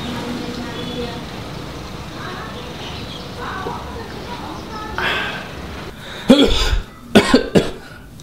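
Near the end, several loud, harsh coughs in quick succession follow a stretch of quiet background rumble, like traffic.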